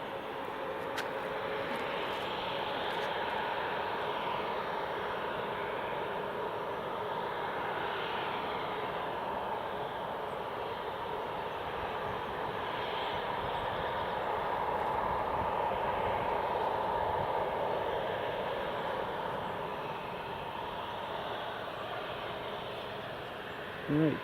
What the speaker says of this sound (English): Tui should be clear for takeoff.